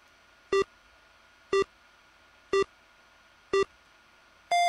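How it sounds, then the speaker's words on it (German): A game show countdown timer beeps four times at an even one-second pace, each a clean electronic tone, then ends with a longer, higher final beep. "Der Timer ist abgelaufen"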